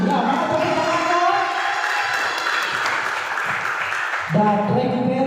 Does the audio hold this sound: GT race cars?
no